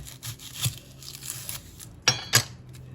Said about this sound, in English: The onion, I'm going to go ahead and cut the end off.